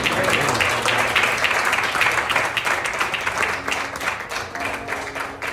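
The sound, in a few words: congregation applauding in church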